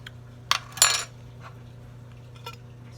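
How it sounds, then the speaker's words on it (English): A spoon clinks against a glass while homemade Sprite is stirred, with two sharp close metallic taps early on and a few fainter chinks afterwards over a quiet hum. "I'm going to continue to stir."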